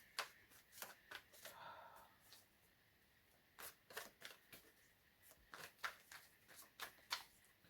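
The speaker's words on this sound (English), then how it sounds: "I don't know why I'm shuffling." A deck of tarot cards is shuffled by hand in repeated bursts of crisp riffling and slapping, close and fairly quiet, with short pauses between runs and no talk.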